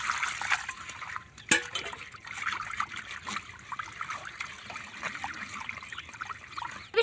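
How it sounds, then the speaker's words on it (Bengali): Thick flattened rice (chira) being washed in clean water gives close trickling, sloshing water with soft splashes and a few knocks of a bowl. "এরপর এটা কিন্তু পরিষ্কার জলে খুব ভালো করে ধোয়া লাগবে।"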